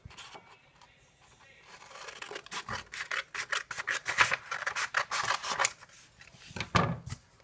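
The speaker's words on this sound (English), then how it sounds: "cut the paper." Scissors snip through paper being trimmed down for a phone craft project, a series of quick, close rasping cuts that grow denser and louder through the middle before a final burst.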